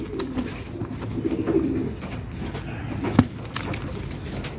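Pigeons in a pigeon house coo in low, rolling bursts, several birds nearby overlapping with soft fluttering and shuffling sounds throughout.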